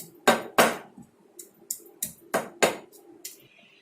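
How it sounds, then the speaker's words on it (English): Ginger and turmeric being pounded with a mortar and pestle at home: a run of sharp, close knocks in an uneven rhythm, some heavy and some light, with nobody talking. "I am crushing the ginger and the turmeric really well. So you can use a mortar and pestle"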